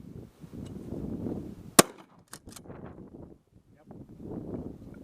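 A shotgun fires once outdoors at clay targets, a single sharp, loud crack standing out above wind noise and low murmuring voices, followed by a couple of fainter knocks.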